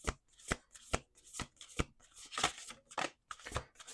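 Deck of oracle cards shuffled close up with about eight evenly spaced, crisp riffling strokes, each a short papery burst, nearly two per second.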